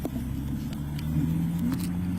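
A car pulling away from a police traffic stop, a low steady engine hum with slight rising revs, fairly close and continuous with no talk.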